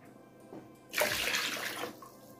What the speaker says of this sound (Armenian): ավելացնում ենք 500 մլ գոլ ջուր, այսինքն 2 բաժակ